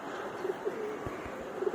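Soft, low pigeon coos murmur a few times over a steady background hum, faint and somewhat distant.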